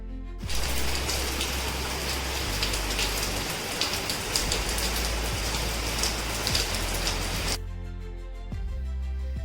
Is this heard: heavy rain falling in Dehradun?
yes